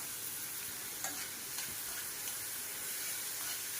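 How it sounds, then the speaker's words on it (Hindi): Spice masala of salt, red chilli and garam masala roasting and being stirred in a pan before paneer goes in, a continuous soft sizzle with occasional light scrapes of the spoon and no talking. "तो अब ये सारा मसाला अच्छे से भुन गया है"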